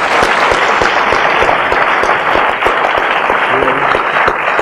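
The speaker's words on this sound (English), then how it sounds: "give yourself another round of applause" A high school gym crowd at a Utah Jazz live event applauds loudly and continuously, a dense unbroken wash of clapping that fills the space from start to finish.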